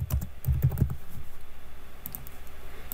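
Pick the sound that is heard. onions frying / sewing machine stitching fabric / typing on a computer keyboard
typing on a computer keyboard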